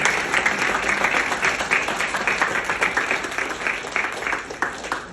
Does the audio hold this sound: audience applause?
yes